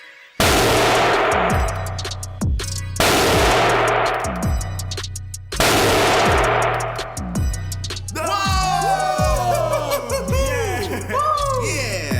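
Firecrackers bursting between powerful magnets, three loud sharp cracks at intervals, each trailing into fizzing and rattling, ending in chaotic crackling and snapping, close and loud.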